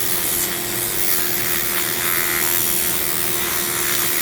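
A Dremel rotary tool sands a zebra wood ring with a steady, close, continuous whirring hum and rough abrasive rubbing throughout.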